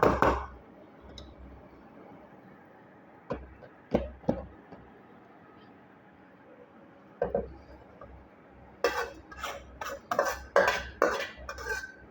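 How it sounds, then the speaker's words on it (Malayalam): Cooked egg thoran scraped and spooned from a pan into another dish, with scattered metal utensil clinks and knocks early on and a denser run of clattering scrapes near the end, close by. "ഇത് ഇനി വേറൊരു പാത്രത്തിലേക്ക് മാറ്റാം."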